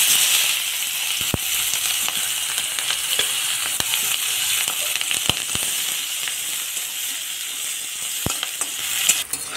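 Chopped onion fries in oil already holding dried red chillies and nigella seeds, a loud, dense, steady sizzle up close with scattered sharp crackles and pops.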